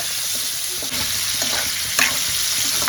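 Mutton liver fries in hot oil with turmeric, giving a steady, close sizzle with a few stirring scrapes and clatters, no voices.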